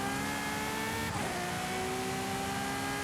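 Race car in Forza Horizon 5 accelerating hard, engine roaring loud and close with rising harmonic whine, a quick gear shift dropping the pitch midway before it climbs again, no voices.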